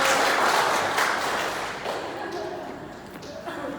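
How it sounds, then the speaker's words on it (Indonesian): Applause at a church gathering as people clap for the elders, a dense wash of hand claps that starts loud and slowly thins and fades, with faint voices underneath. "terima kasih ya, tepuk tangan untuk orang tua."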